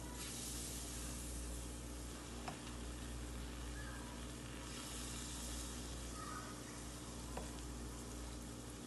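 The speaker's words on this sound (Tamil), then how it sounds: "இப்போ பணியாரத்தை ஊற்ற ஆரம்பிச்சிடலாம்." Sweet paniyaram batter sizzles in hot oil in a pan, a steady soft frying hiss with faint crackles and a couple of small clicks, with no talking.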